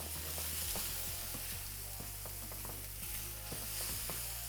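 Brandy hits a hot pan to deglaze it while making gravy from scratch, a quiet steady sizzle and hiss with small crackles and spoon scrapes throughout, with no talk.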